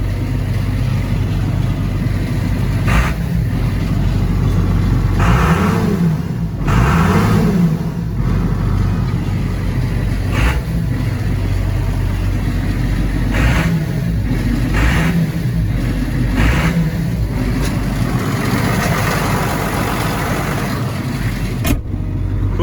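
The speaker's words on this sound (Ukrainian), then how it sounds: "Дуже гарно працює двигун." A loud diesel engine of a John Deere 7600 tractor idles and rumbles steadily at close range, with its pitch rising and falling a few times as it revs.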